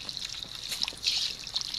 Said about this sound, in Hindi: चाचू की कब्र में पानी डाले